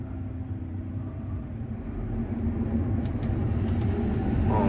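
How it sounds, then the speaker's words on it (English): Truck arriving on a farm during bean harvest, a low engine rumble that steadily grows louder as it approaches, with no talking. "Here comes my brother with another truck."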